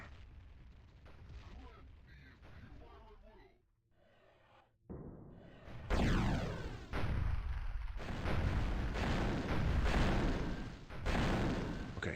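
Grenade blasts in the Warhammer 40,000: Fire Warrior video game go off as heavy, booming bursts after a quieter stretch, several loud explosions crowding together with rumbling tails.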